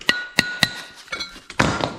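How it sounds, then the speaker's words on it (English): Three sharp metallic hammer taps on a 1966 Chevy dually truck bed in a quick, even rhythm, followed by a few softer knocks and a clattering scrape. "Might have to do some tapping with the hammer."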